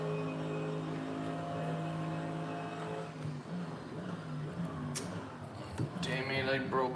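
Simulated GT3 race car in a practice session in Assetto Corsa, its engine droning steadily with harmonic tones shifting as revs change, turning rougher toward the end with louder bursts.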